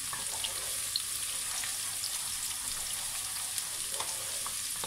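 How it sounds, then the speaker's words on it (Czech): Onion and garlic frying in a pan, a steady soft sizzle with faint crackles and pops throughout and no talking. "když se smaží cibule a česnek, jak to krásně voní"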